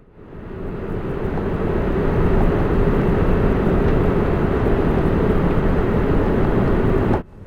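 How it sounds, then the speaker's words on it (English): An Air Canada Boeing 787-8 Dreamliner descends and lands at Toronto Pearson International Airport, heard from inside the cabin as a loud, steady broadband engine and airflow roar that holds for several seconds, then cuts off abruptly near the end. "here is our descent, approach, and landing on Toronto Pearson International Airport's runway 24 right"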